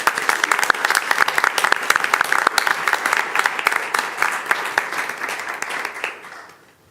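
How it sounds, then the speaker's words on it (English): At a school board meeting, an audience applauds coaches with a loud, crisp run of clapping that holds steady, then thins and dies away over the last second. "So if you'll give these guys a big round of applause as well."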